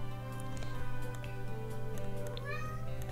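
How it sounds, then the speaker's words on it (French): A house cat meows a few times in the background behind game music and a steady hum, the calls rising and bending near the end. "je sais même pas si vous avez entendu mon chat parler en fait"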